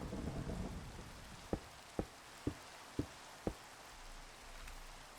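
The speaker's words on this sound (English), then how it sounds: "gotta love that rain" Steady rain hisses across the blocky world of the Cobblemon game, a soft continuous wash, while five evenly spaced sharp knocks land about half a second apart in the middle.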